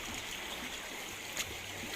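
River water flows steadily at Tawang Eco-Park, a continuous close broadband rush with no voices.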